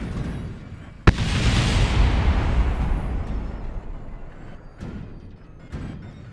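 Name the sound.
explosion in a plane-building video game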